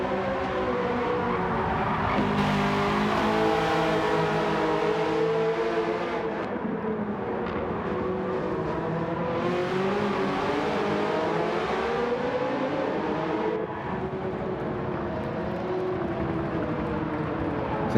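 Sustained roar of several GT race cars in Gran Turismo 7 endurance racing, including a Porsche and a Ferrari, with engines droning and shifting pitch continuously, loud and steady throughout.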